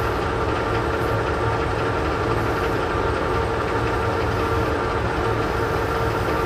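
A spinning shaft on a sawmill machine, running slightly out of true, drones as a loud, continuous low mechanical rumble with a steady whine above it, close by and with no talk.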